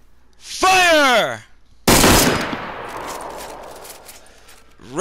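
A ceremonial rifle volley fired in salute to the fallen: a shouted command, then one loud, sharp simultaneous crack that rings out in a long echoing decay outdoors, with the next command beginning at the end.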